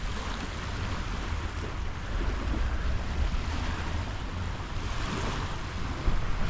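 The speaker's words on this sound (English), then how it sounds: "This is the river, which leads out to the ocean" A river flowing out to the ocean at Kota Bharu, Malaysia, heard as a steady, broad wash of water and wind, with wind buffeting on the microphone throughout.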